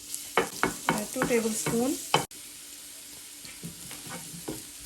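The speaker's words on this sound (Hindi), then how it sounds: "गार्लिक को हम थोड़ा सा सौटे करेंगे।" Garlic sautéing in hot oil in a pan, a bright steady sizzle with stirring scrapes and clinks, while a voice speaks briefly.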